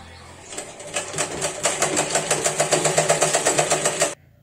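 A sewing machine stitches a floor mat made from old dresses, running in a steady, rapid, evenly pulsed burst of needle strokes for about four seconds before stopping abruptly. A voice speaks briefly beneath it.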